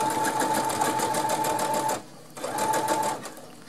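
A sewing machine stitches the seam of a reversible fabric basket, a steady close mechanical whir running for about two seconds, briefly stopping, then starting again for another burst.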